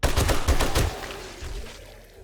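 Rapid bursts of gunfire in the 7 Days To Die video game on a construction floor of a tower, loud close shots in a quick run that stop abruptly, leaving a lower rumbling tail.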